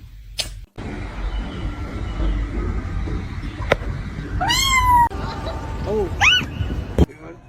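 A pet cat meows twice in a lively home, clear rising-falling cries near the microphone, with people chatting and a sharp thump in the background.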